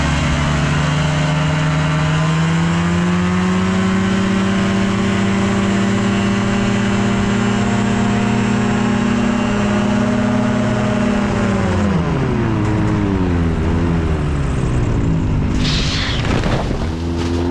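A small airplane engine drones loud and close with a steady tone during takeoff, then its pitch sags and falls away as the engine fails near the end.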